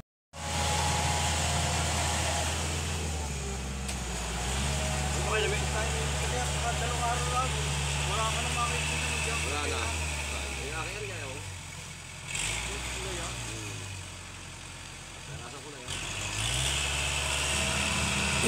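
A farm tractor's engine drones steadily in a field being cleared for crops, a low continuous rumble with pitch shifting as the load changes, moderately near, with talk over it.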